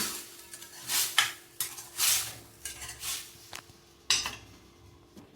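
Cooked black urad dal is tipped into a spiced tempering in a pan and stirred with a metal spoon, giving repeated scraping and clinking strokes with a soft sizzle underneath.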